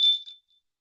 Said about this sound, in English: So I'm going to go ahead and ring our little hummingbird bell here,